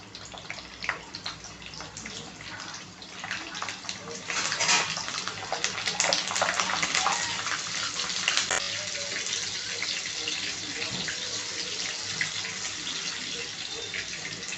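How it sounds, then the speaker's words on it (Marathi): Green chilies sizzle and crackle in hot oil for chana dal vada, the frying hiss growing louder and denser once they hit the pan. "सगळ्यात आपण आधी मिरच्या टाकणार आहे तेलामध्ये।"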